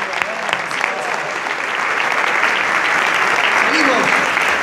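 Loud, close applause at an awards ceremony, a continuous crowd clapping that swells slightly toward the end, with a few faint voices and cheers mixed in.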